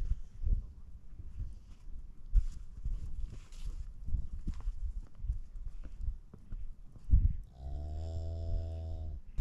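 Cattle on a snowy ranch during winter calving, with scattered shuffling and rustling noises near the herd before one close, loud, sustained moo near the end.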